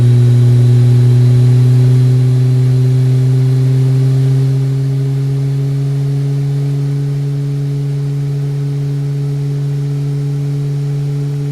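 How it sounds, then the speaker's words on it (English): Aircraft engines spooling up during startup in Microsoft Flight Simulator 2020, a loud steady mechanical drone with sustained tonal hums that hold and shift slightly in pitch, running alone without talk. "we have a good start on engine 2, starting up engine 1"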